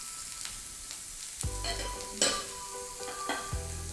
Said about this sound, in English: Now we're gonna add the peppers and broccoli.